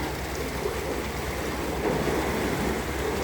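Steady, loud rushing water roars continuously without a break, like a heavy outflow pouring from a gate, as water flows out of a canal lock in Falkirk, Scotland.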